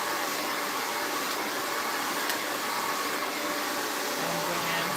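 A hair dryer blows out curly hair in a salon, giving a loud, steady whooshing roar that runs unbroken throughout at close range.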